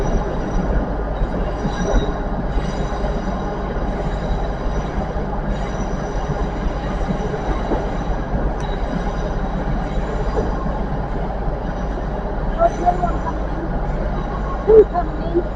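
Model train running on a layout track, with a steady mechanical rumble and faint wheel clatter throughout while people talk nearby.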